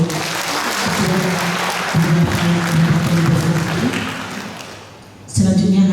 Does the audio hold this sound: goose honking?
no